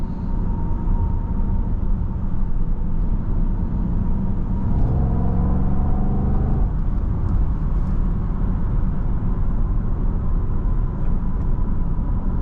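A powerful engine in a 2023 Jaguar F-Pace SVR sports SUV roars steadily from inside the car, swelling into a deeper, throatier exhaust rumble midway as it accelerates hard, then settling back into road noise.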